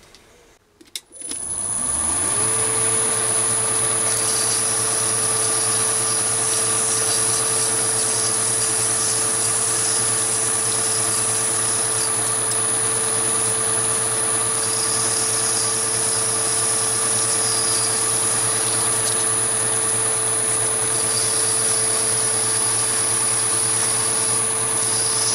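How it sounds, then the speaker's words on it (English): Emery cloth deburrs the end of a new gas fitting for a Chinese Smith oxy-acetylene/propane torch kit. A machine starts up into a loud, steady whirring drone with a high whine that runs unbroken for the whole stretch. "then just deburr the end with a piece of emery"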